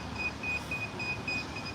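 A high electronic beep repeats at a steady rapid pace, faint and thin, over a low background rumble in a cafe on the Chao Phraya River.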